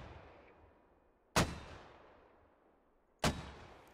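Mortar rounds in the Squad video game, two sharp, loud booms about two seconds apart, each trailing off in a long rumbling decay over a faint background.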